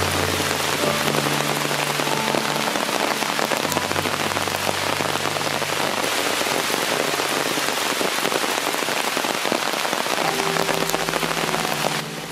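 Rain pours steadily on a forest at Sholayar near Athirappilly, a dense, continuous patter of drops on leaves and ground that stays loud and even for the whole stretch, with no voices.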